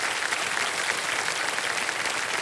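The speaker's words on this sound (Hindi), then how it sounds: "जोरदार तालियां एक बार फिर माही जी के साथ" Studio audience applause on the KBC game show, a steady, dense clapping from a large crowd filling the whole stretch at moderate loudness.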